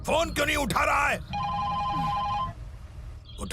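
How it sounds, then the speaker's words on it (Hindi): A telephone rings unanswered, a steady electronic ring for over a second after someone speaks urgently, with a brief voice near the end. "ये फोन क्यों नहीं उठा रहा है?"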